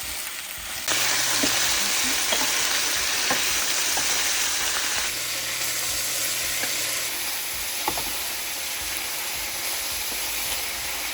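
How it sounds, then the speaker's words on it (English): Loud, constant sizzling of shrimp frying in hot oil in a pan, close up, with occasional soft clinks of stirring. "So I have put some oil in my pan to hot, and now I am frying my shrimp up."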